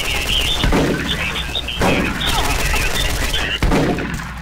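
Repeated shotgun blasts in the video game SMOD Outbreak, a few loud broadband bangs spaced about a second apart over constant game noise and a bright chirpy high layer.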